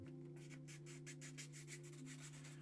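Repeated short scraping strokes of sandpaper on a small hard miniature figure, close up, in a steady back-and-forth rhythm over a constant low hum.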